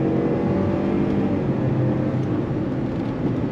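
A Lincoln Navigator Black Label SUV pulls away from a roll under throttle, with a steady, loud engine drone and broad road and cabin noise that builds evenly, no voices.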